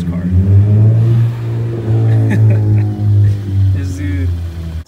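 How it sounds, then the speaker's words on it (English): A lowered (slammed) Honda Civic idles and rattles nearby, a steady low engine drone running throughout with faint voices in the background. "here's my neighbor with the slammed Honda Civic that's rattling"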